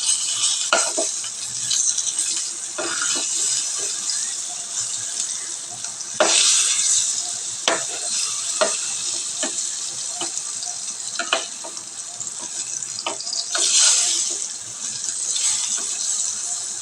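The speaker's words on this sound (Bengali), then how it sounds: "এবার এগুলোকে একটু উল্টে পাল্টে দেবো।" Eggplant slices frying in a pan as they are turned, a low sizzle broken by repeated scraping and tapping of a spatula, near and moderately loud, with no talking.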